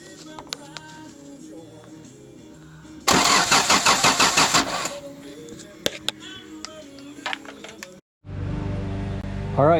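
A Mercedes OM617 diesel engine swapped into a 4Runner cranks loudly in a rhythmic burst, falls quiet briefly, then catches and settles into a close, steady idle.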